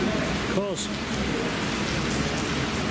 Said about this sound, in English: Still wet, still raining, still slippery